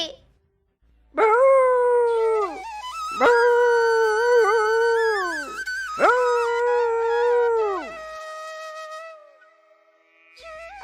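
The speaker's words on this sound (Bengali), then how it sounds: "কুকুরটা খাবারের জন্য কিভাবে চিৎকার করছে! নিশ্চয়ই কুকুরটার খুব ক্ষুধা পেয়েছে।" A cartoon dog howls for food in three long, loud, wavering howls close by, then trails off into a softer whine.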